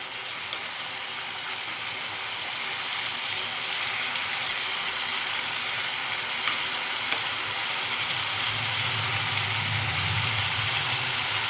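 Salted tomatoes sauté in a pan with a little water, giving a steady, even sizzle and hiss throughout, with no talk over it.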